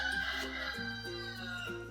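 Chickens in a yard on a property with many birds, a close, faint rooster-like crowing call with tonal clucking sounds, heard alone without talk.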